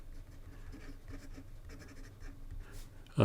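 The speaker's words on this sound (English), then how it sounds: "This Jowo nib is almost writing like a broad, which I like." A Moonman/Majohn V60 fountain pen with a medium Jowo nib and fluid black Pilot Takisumi ink writes on paper in quiet, close, scratchy strokes, ending with a brief sharp knock.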